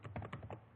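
HTML code is typed on a computer keyboard in a short, quiet burst of about six close key clicks with no voices.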